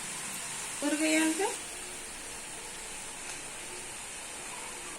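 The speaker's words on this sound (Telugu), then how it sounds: "ఆయిల్ ఆ విధంగా వేడి చేసుకొని ఈ విధంగా వేసుకోవాలి" Urad dal chakralu dough frying in hot oil: a steady, soft sizzle and bubbling hiss runs throughout, with a short voice-like sound near the start.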